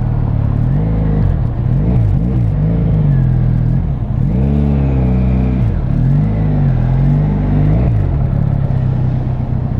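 A car engine revs during driving, the rumble rising and falling through several throttle blips and gear changes, close, steady and continuous, with no talking.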